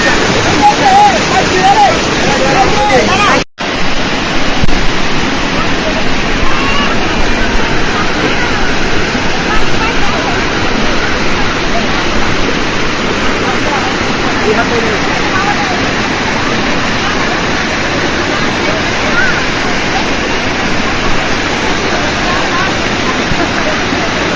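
Steady, loud roar of rushing water from a waterfall at Jaflong in Sylhet, Bangladesh, a dense continuous wash close to the listener with some wind buffeting, broken by one brief dropout.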